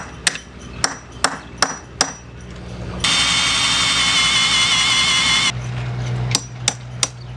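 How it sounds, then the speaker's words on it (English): Drilling on a boat rudder part, a steady loud whine lasting a few seconds, framed by sharp metallic hammer taps before and after. "Why don't you drill it some more?"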